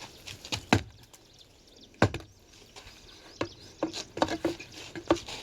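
A small axe chopping into a coconut outdoors on a farm: a handful of sharp, irregular woody thwacks, fairly close, separated by short quiet gaps with faint scuffing between strikes.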